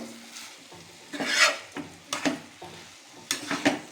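Rice and lentils with chili powder being fried in a pan for vegetable khichuri, stirred with a spoon that scrapes in short bursts over a low, steady sizzle.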